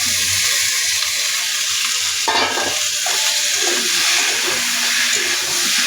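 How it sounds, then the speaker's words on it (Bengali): Pre-fried cauliflower florets are tipped into a hot pan for an egg and cauliflower curry, with a sudden burst of sizzling and clattering as they land, followed by a steady frying hiss and some stirring. No one speaks. "এইবার আমি ফুলকপিগুলো দিয়ে দেবো, ভেজে রাখা ফুলকপিগুলো"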